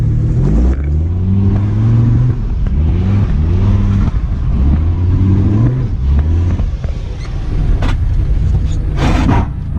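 A slammed Mercedes-Benz W123 diesel car doing a burnout on icy ground, its engine loud and close, revving up and down in repeated rising surges with a rough rumbling growl, plus brief bursts of scraping hiss near the end.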